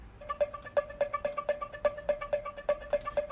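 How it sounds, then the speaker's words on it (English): A cinematic, movie-trailer style background effect for a dance remix plays as a regular tonal pulse at a steady rhythm of roughly three beats a second, moderately loud and clean, with no voices. "I have this really kind of interesting cinematic effect in the background"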